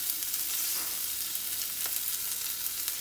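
Crushed fennel and green chili fry over a low flame in a pan, giving a steady close sizzle with faint crackles and the occasional light stir.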